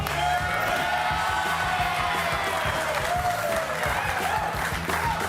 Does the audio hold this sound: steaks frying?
no